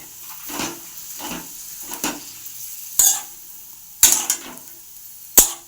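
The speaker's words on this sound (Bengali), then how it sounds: "এই যে পাঁপড় ভাজছে এত সুন্দর হবে না" Large papads puff up as they fry in hot oil, giving bursts of bubbling sizzle and sharp scraping or tapping strokes at irregular intervals, close and fairly loud.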